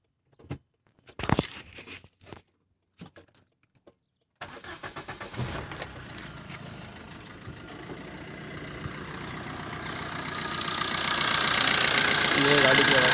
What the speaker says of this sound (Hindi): चलिए मैं आपको गाड़ी का इंजन स्टार्ट करके उसकी आवाज़ सुनाता